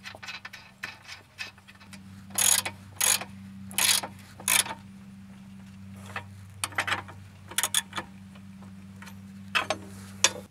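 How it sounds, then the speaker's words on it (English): A nut is threaded and tightened onto the top end of the rear pitman arm of a BMW E34, with a series of close ratchet clicks in short bursts over a low steady hum. "now we'll thread the nut up on the top end"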